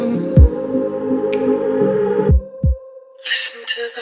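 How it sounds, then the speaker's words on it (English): A heartbeat mixed into a song, deep low thumps heard a few times, with music playing over and around them and a voice singing. "heartbeat."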